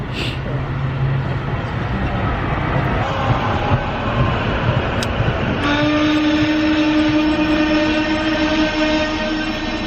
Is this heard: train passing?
yes